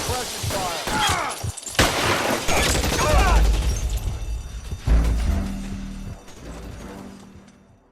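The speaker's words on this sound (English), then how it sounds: "I'll lay down suppression fire" Suppression gunfire in the video game L.A. Noire during a bank shootout, a loud burst of shots and crashing impacts with a deep boom around the middle, mixed with voices and fading toward the end.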